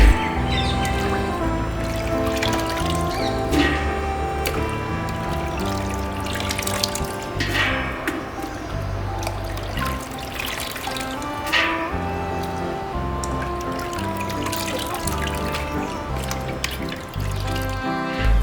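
Manathakkali berries are being washed by hand in a vessel of water, with continuous sloshing and splashing under a constant layer of background music, close and steady for the whole stretch.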